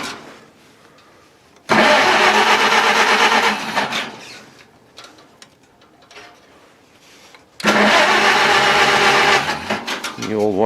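An old Farmall tractor engine cranks over twice in loud, sustained bursts of starter grinding and rough firing, with a quieter gap of shuffling between them and a faint voice nearby.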